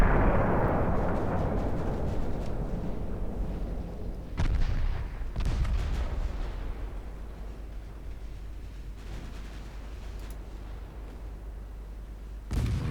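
Battleship main guns firing in the naval warfare game Ultimate Admiral Dreadnoughts: a heavy rumbling roar that slowly fades, followed by a few more dull booms and a long low rumble, with no speech.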